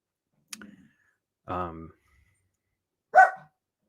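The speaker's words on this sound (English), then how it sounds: "Quit barking." A dog barks three times, short sharp barks spaced about a second apart, fairly close, with quiet in between.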